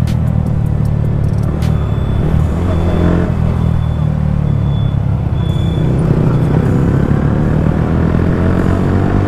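City road traffic rumbling all around from a moving motorcycle (Continental GT 650 or Yamaha R15 M), a loud steady engine and road drone with passing vehicles, continuous throughout.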